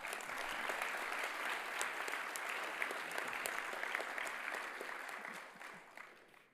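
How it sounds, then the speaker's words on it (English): A high school crowd at a National Signing Day event claps in sustained applause that holds steady for several seconds, then tapers off toward the end. "We give them a round of applause."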